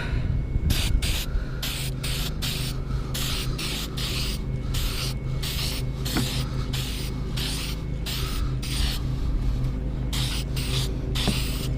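AutoZone spray paint primer sprayed onto a metal sway bar, rapid repeated short hissing bursts from a close aerosol can, stopping and starting in quick pulses for the whole stretch with no talking.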